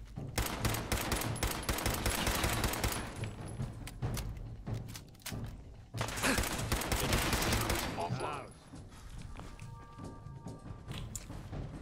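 Pistol fire in Fallout 4, rapid loud shots rattling close in dense volleys with a short lull, then another burst and fading calmer sounds with a voice.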